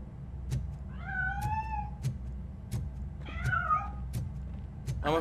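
Two drawn-out, rising-then-falling meows from a cat in RoboCop Rogue City, standing out over a steady low hum of game ambience, with sharp clicks and taps scattered between them.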